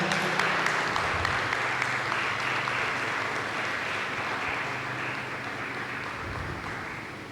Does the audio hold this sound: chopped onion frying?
no